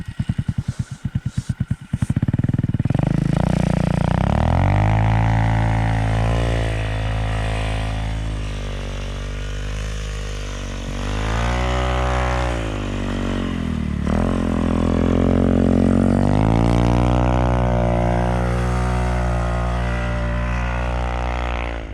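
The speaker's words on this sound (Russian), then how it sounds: "напоследок еще послушайте рев мотора" A tuned STELS Kapitan Dingo T150 snowmobile-type machine with a 165 engine starts with a few sputters, then roars steadily, its pitch rising and falling through repeated revs and accelerations, loud and close for the whole stretch.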